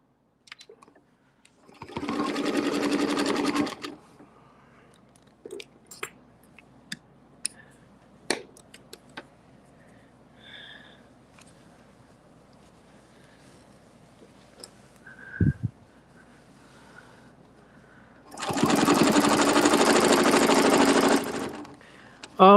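A sewing machine stitches fabric in circles with a circles-and-straights tool, running in two short bursts, one near the start and a longer one near the end, with quiet handling clicks and faint movement between them.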